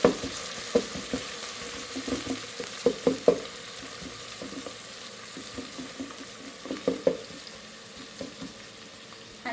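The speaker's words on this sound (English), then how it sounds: "So I stir again a little bit." Cooked matoke plantain stirred in a rice cooker pot, producing soft irregular scraping and clacking of a spoon against the pot with a faint bubbling, moist background; no voices.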